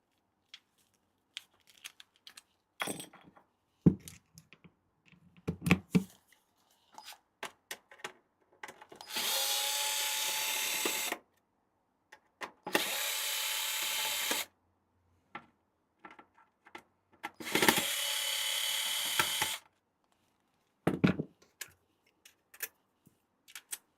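Three whirring runs of a power screwdriver, each about two seconds, backing screws out of electronics, with small clicks and taps of handling scattered between them, quiet and close.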